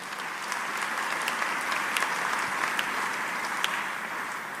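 A church congregation applauds steadily, many hands clapping together in a dense, even wash of sound with a few sharper claps standing out, sustained throughout at moderate distance.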